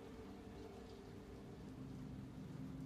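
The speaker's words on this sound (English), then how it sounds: "Will this storm ever run out of rain?" Steady, dense rainfall from a storm in the video game Layers of Fear (2023) hisses continuously with a low rumble underneath, with no break in the downpour.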